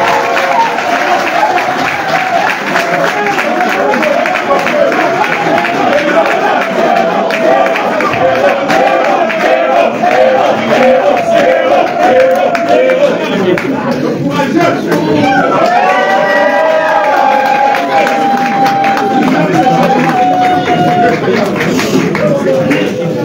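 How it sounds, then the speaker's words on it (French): A crowd applauds and cheers at a political press conference. Dense, loud, sustained clapping runs for over twenty seconds alongside voices and whoops, and a louder cheer rises partway through. "Le président Anissé Ikané, que je voudrais qu'on applaudisse une fois de plus."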